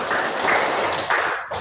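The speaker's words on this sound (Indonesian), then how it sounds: "mari kita tepuk tangan semua untuk kita semua" A class of students clapping their hands together in a classroom, a dense, steady patter of many hands at close range that continues throughout without talk.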